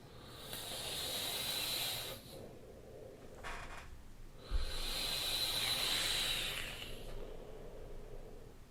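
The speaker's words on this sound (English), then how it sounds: "You can hear the sizzling at the end there" A twisted-wire cat track vape coil fires at 165 watts, producing two long, close hissing, sizzling bursts separated by a quieter pause.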